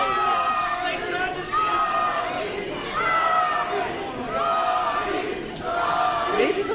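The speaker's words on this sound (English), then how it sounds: "Maybe the fans can calm down a little bit." A wrestling crowd at a Scotty 2 Hotty versus Charles Crowley match cheering and shouting, with loud, rising chants swelling in repeated waves that mix with voices throughout.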